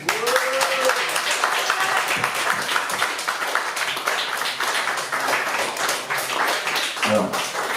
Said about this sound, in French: On peut applaudir très fort Pascal.